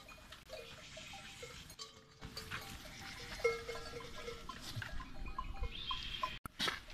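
Sheep bleating and moving as they are let into a bean field, a mix of bleats and rustling at moderate distance without speech.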